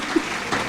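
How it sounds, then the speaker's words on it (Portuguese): An audience claps for the participants at a Positive Discipline discussion circle held at Colégio Loyola school, a steady, dense patter of many hands at even loudness with no pauses, heard briefly and without talk. "Vamos aplaudir, gente, os participantes."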